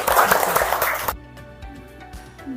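Classroom clapping for a group after their presentation, a dense burst of many hands lasting about a second before stopping abruptly, leaving faint room noise.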